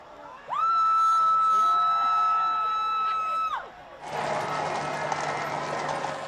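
A crowd cheers King Charles and Camilla on their coronation procession from Buckingham Palace to Westminster in London, with a steady distant roar after a long sustained horn-like tone fades out.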